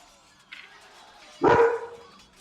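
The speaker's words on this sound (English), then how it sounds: "so she's barking." A dog barks once, loud and near, after a faint earlier yelp, in a quiet setting with no talking.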